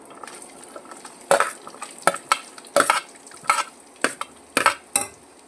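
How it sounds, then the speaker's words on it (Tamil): Small shallots and green chillies are sautéed in oil with tempering spices, giving a continuous sizzle under a quick series of sharp spatula scrapes and clinks against the pan, close and clear. "பச்சை மிளகாய் சேர்த்துக்கலாம். நல்லா வதக்கி விடுங்க."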